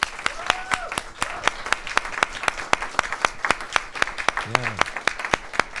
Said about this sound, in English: So I just want to give you a round of applause